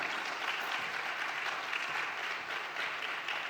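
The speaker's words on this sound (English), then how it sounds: "Ladies and gentlemen, I think let's give our 4 speakers a big round of applause" A conference audience at a summit in Nairobi applauds four speakers, dense even clapping from a large crowd that holds steady throughout, heard from somewhat of a distance.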